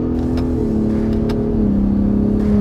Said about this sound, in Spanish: voy a volverles a mostrar el sonido de la Raptor